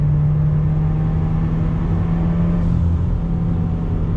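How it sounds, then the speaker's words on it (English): A used Subaru WRX engine pulls hard on throttle, a loud, steady turbo rumble with a firm low drone building continuously, heard from inside the car without any talking. "But on throttle, here we go. Nice sound."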